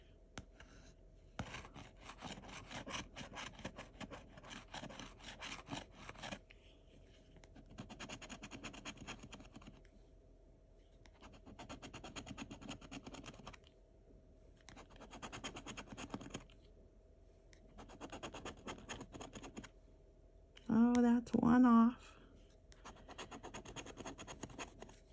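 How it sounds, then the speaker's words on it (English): A Gold Rush lottery scratch-off ticket is scratched up close in repeated bursts of quick rasping strokes separated by short pauses, with a brief louder tonal noise near the end and no speech. "Are you scratching your ticket?"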